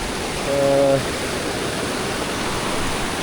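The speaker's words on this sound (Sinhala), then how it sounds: "ඉතින් මේකෙන් තමයි දිය ඇල්ලෙන් එන වතුර" Water from the Kolapathana waterfall rushes in a steady, broad wash of noise. A short tonal sound rises briefly near the start.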